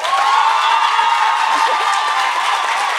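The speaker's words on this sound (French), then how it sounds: "pour nos 3e concurrents, donc Rabi, applaudissements" A loud, full crowd at a thesis-presentation contest applauds and cheers for contestant Rabi, with whoops and shouts mixed into a continuous roar.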